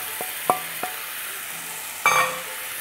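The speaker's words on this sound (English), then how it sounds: "Give that a good stir as you mix the spices into your ginger" Coriander, chili powder and turmeric stirred into frying ginger in a pan, heard as a few sharp scrapes and taps of the stirring utensil over a faint continuous sizzle.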